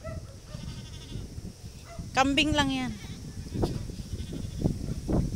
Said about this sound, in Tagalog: kambing, huwag mo akong kainin.